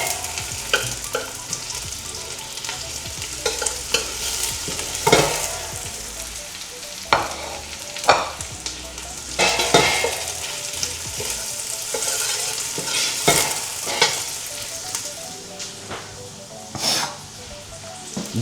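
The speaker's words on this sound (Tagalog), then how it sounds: "sunod na natin ilagay ang ating onions. Ayan. Sautay lang din natin siya" Onions sautéing in a pan for chicken sopas, a loud close sizzle and crackle broken by repeated scraping strokes of stirring, steady throughout with no talking.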